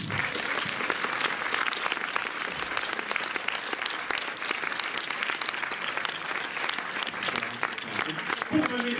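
An audience at a film screening applauds filmmaker Raoul Peck, whose film is I Am Not Your Negro. Dense, sustained clapping from many hands fills the room, with a faint murmur of voices underneath.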